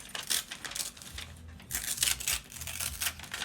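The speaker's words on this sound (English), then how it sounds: "maybe I want to rip this to create some texture" Paper is ripped by hand for a collage in short, dry tearing bursts with brief pauses, close and fairly quiet.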